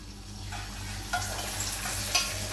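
Beaten egg with salt hits a hot pan for an egg roll, a broad steady sizzle rising as it spreads, with a couple of faint utensil taps, close and continuous without speech.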